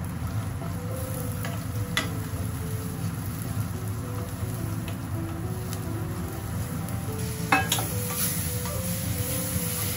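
Chopped onions and spices fry steadily in ghee and oil, a dense continuous sizzle with crackles and pops, close and fairly loud, with occasional clinks of a utensil against the pan.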